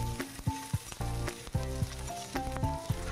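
Grated ginger and grated coconut frying in a pan for a Bengali-style chickpea dal give a close, crackling sizzle with rhythmic spatula knocks and scrapes against the pan, and no voices.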